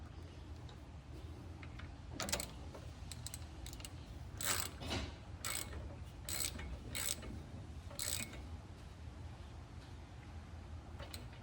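A ratchet wrench snugs the oil drain plug on a John Deere X300 or X500 series riding mower, giving a handful of quick, separate clicking bursts up close, with no talk over them.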